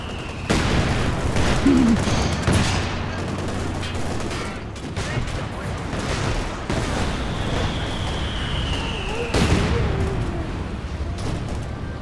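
Mortar blasts and scattered small-arms gunfire in a large 4v4 Company of Heroes 2 battle, a dense continuous wash of distant thuds and crackling shots with a few sharper booms rising out of it.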